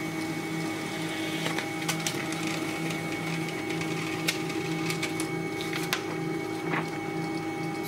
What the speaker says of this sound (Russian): Вот принтер пошел печатать.